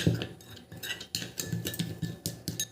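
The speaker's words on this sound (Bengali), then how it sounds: "দিয়ে 3টে উপাদান ভালো করে কিন্তু আমি মিশিয়ে নিচ্ছি" A spoon scrapes and clinks steadily against a bowl while sugar, gram flour and other ingredients are stirred together, close and quiet, in an irregular mixing rhythm.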